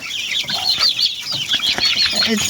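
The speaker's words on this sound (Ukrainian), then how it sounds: "І оце цей пітушок." A young rooster clucks and chatters continuously at close range, mixed with other fowl calls.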